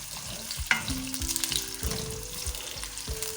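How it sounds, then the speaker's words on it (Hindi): Marinated chicken fries over a low flame, a soft steady sizzle with occasional stirring scrapes and spatula knocks, close and without any talking. "इसको हमने लो फ्लेम पे फ्राई करना है"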